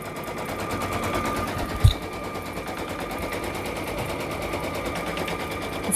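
An embroidery machine runs a placement stitch on fabric for an appliqué iron-on patch, a rapid, steady mechanical needle rattle held close and loud throughout, with one brief knock midway.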